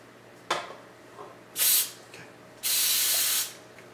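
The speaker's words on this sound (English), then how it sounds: "you're gonna spray each pan with Pam" Three hissing bursts from a can of cooking spray onto baking pans, one short, one longer, then a sustained spray lasting about a second, in a quiet room.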